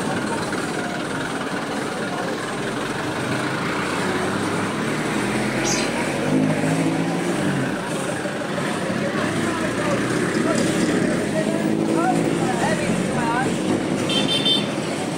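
Busy traffic at a highway crossing near a market in the Philippines, with car and vehicle horns tooting now and then over a steady roadside rumble, and voices talking in the background.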